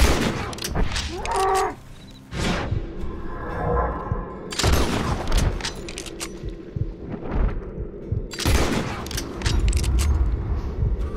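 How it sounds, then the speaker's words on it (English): A Springfield rifle loaded with express ammo fires in Red Dead Redemption 2 while hunting a legendary animal: about three heavy, booming shots spaced a few seconds apart, ringing over busy game ambience. "Take your trusty Springfield rifle, 4 rounds of express ammo, and that should be enough to get the job done."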